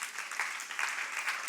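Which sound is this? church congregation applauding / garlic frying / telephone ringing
church congregation applauding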